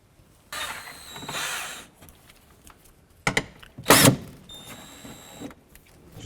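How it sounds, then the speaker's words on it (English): Ratcheting and mechanical clatter from a 10mm socket ratchet loosening bolts on a 2012-17 Toyota Camry, a short burst early on, then sharper bursts in the middle, close and moderately loud. "Using a 10mm socket, we're going to remove this bolt here."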